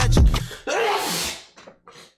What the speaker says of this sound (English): I'm gonna be sneezing like crazy in this one